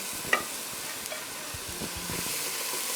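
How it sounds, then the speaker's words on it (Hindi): Masala spices are stirred and roasted in a pan, giving a soft, steady sizzle with light scraping and stirring sounds, heard up close and alone. "सारी चीज़ें अच्छे तरीके से भून लेनी है"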